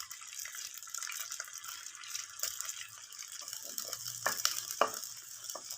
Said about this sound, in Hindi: ये लहसुन डालूंगी।